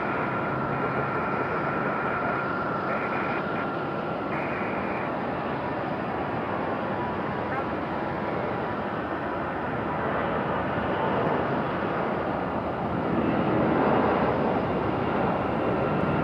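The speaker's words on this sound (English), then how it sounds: "Here's our second A320 on the move for Delta." Steady roar of a Delta Airbus A320 jet taxiing at Raleigh-Durham airport, a continuous broad engine drone with a faint whine, distant and even, swelling slightly near the end, no talk.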